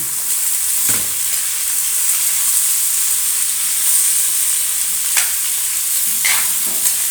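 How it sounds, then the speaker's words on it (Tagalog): Chicken feet sauté in a pan for a coconut-milk stew, with a steady broad sizzle throughout and a few sharp scraping stir strokes cutting through, close and loud with no talking. "Gigisa muna natin bago natin siya gagataan."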